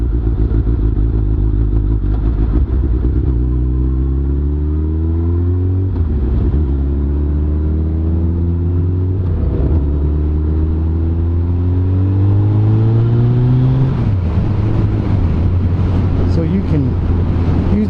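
Gen 1 Suzuki Hayabusa with a six-speed gearbox pulls hard and loud, its engine note climbing in repeated sweeps as it shifts up through several gears, with a brief dip at each change.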